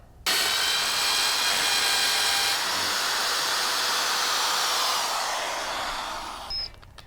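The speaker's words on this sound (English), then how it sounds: "we're going to drill our pilot hole with the hammer drill" A loud, steady hammer drill grinds continuously into brick for several seconds without pause, then cuts off near the end, with no talking.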